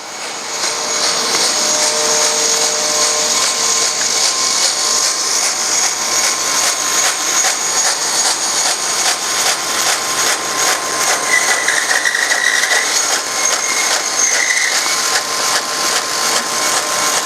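A bandsaw cuts through thermoformed plastic signs, a loud, steady mechanical whine with a fine pulsing texture, continuing close and unbroken for the whole stretch without speech.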